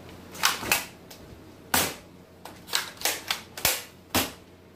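A toy gun fires a series of sharp, snappy clicks and cracks in irregular bursts, about ten shots spaced unevenly, close and fairly loud with no talking.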